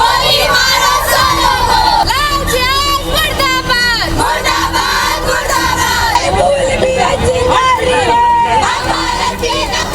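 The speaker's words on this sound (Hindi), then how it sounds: "बीच चौराहे ये महिलाएं लव जिहाद मुर्दाबाद के नारे लगा रही हैं" Women protesters chant slogans together at a street crossing in Madhya Pradesh's capital, a loud, continuous rhythmic chorus of raised voices with crowd noise underneath.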